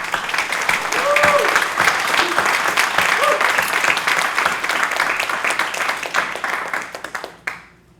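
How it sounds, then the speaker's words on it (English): Audience applause at an EMT program pinning ceremony, a loud, continuous round of many people clapping with scattered voices and cheers, fading out abruptly near the end. "Let's please give them a good round of applause."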